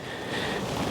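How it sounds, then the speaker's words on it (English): Strong winter wind gusts across a lake on a rainy morning at a carp fishery, a steady, full roar of buffeting noise that swells slightly louder partway through, with no voices. "It's proper windy,"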